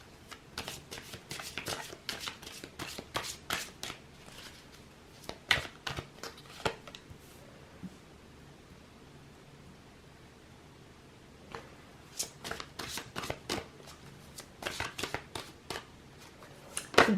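Tarot cards are shuffled and drawn by hand in close, crisp bursts of riffling and flicking, separated by quieter pauses, with no talk over it.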